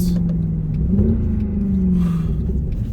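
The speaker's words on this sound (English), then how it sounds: "It's always fun to change down in these cars because that exhaust note." A 2008 Mercedes C63 AMG (W204) downshifting, its exhaust note a deep, loud rumble that dips and swells as revs change, close and alone without talk.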